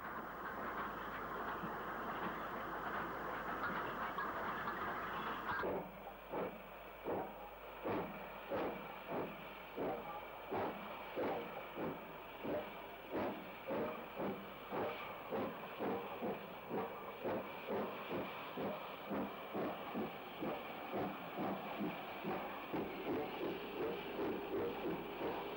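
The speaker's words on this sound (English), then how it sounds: "92111 passes with a freight for West Depot." Locomotive 92111 hauling a freight train near Bristol, UK: a steady hiss first, then a long run of regular, rhythmic wheel clacks as the wagons roll past at moderate distance.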